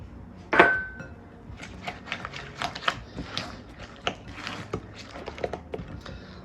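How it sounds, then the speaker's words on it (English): A room-temperature egg being mixed into gluten-free blondie batter in a bowl, starting with one sharp clink, then a run of soft, uneven tapping and scraping strokes close by, with no voices. "I'm going to add 1 egg. Mine's at room temperature, and I'm going to mix it until it's combined."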